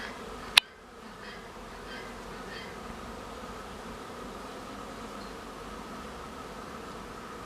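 Weak honeybee colonies buzz around a beehive in early March, a soft continuous hum of many bees with one sharp click at the start and no voices.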